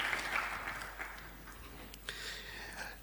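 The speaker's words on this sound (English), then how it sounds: "Kindly, let's welcome him with a clap." Modest audience applause welcoming a Cabinet Secretary at an official Kenyan state function, a faint spread of clapping heard from a distance that thins out and then briefly picks up again.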